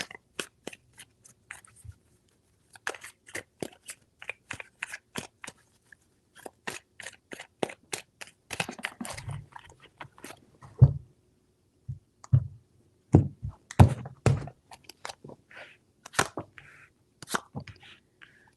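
Tarot cards are handled and shuffled in a long run of close, crisp clicks and snaps, sparse at first, then denser with heavier thumps toward the middle, with no talk.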